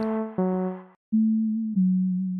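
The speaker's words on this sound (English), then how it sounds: "As we click it in, it's just going to give us just kind of like a basic sine wave" Plain synthesized sine-wave tones from the Synthesizer V sequencer play as a few sustained notes, one after another, with a short silent gap between them, clean and steady.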